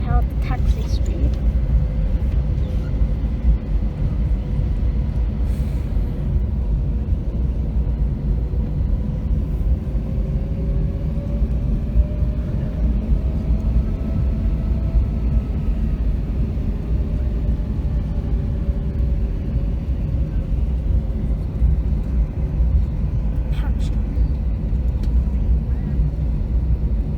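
A Jetstar Airbus A321 at Melbourne Tullamarine raises engine power to taxi speed, a steady low rumble with a faint rising whine, continuous and fairly loud for nearly half a minute.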